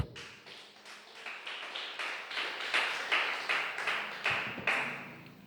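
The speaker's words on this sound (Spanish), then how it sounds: "Dale fuerte el aplauso al Señor." A church congregation claps in steady rhythm, the applause building gradually in a reverberant room; no talking.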